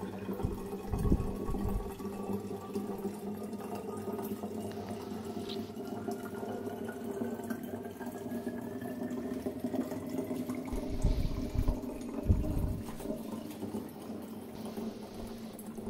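Tap water running steadily from a household faucet, a continuous close splashing stream with a few louder gushes and clatters, as at a sink while rinsing dishes after lunch.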